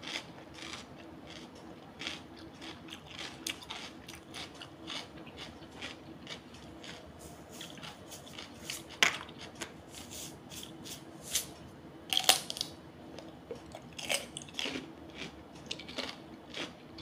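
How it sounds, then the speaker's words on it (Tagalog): Fresh cucumber is eaten at lunch, with repeated crisp, crunchy bites and chewing clicks scattered irregularly over a quiet background, close to the mouth. "Nabalo mo guys ang cucumber, grabe na crunchy."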